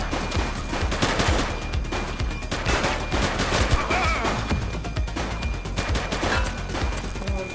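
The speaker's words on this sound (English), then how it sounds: "She's shooting!" A suspect's gunfire in the police video game The Precinct: dense, continuous loud shooting and rapid bursts with crashes, alone and unbroken throughout.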